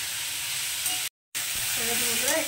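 Potatoes with salt and turmeric sizzle in a hot pan while being stirred, a steady close frying hiss broken by a brief silent gap, with a faint voice toward the end.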